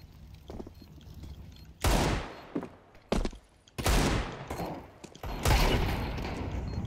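Desert Eagle pistol shots ring out in Counter-Strike 2, a few sharp, loud single cracks spaced a second or so apart, with quieter footsteps and gear noise between them.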